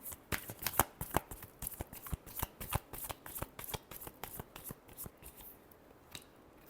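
A deck of tarot cards is shuffled by hand in a quiet room, giving a run of crisp riffling and slapping bursts in an uneven rhythm, close and soft, with no voice over it.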